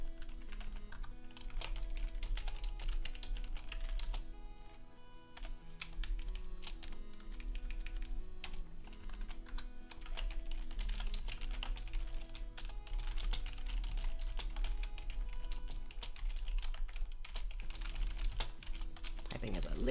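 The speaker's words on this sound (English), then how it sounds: "Typing is a little weird here." A computer keyboard clatters in rapid, uneven bursts of key clicks through a live stream, close and continuous over faint steady background tones.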